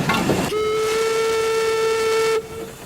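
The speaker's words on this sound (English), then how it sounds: "It's powered by a small steam engine." Small steam engine on an elegant launch boat gives a loud, steady whistle blast lasting about two seconds, preceded by a brief hiss, with no voices.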